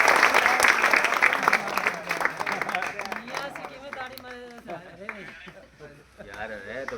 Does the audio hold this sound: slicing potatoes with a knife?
no